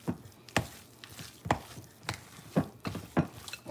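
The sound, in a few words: stirring egg into a potato mixture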